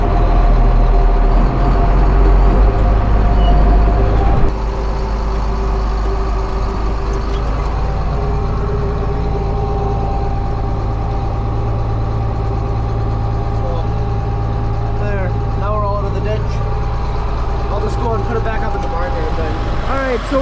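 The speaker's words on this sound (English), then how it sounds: "now we can drive it out of the ditch" Vehicle pulling a manure dumpster out of a ditch, its engine idling and droning steadily close by with a louder burst at the start, while a person talks over it.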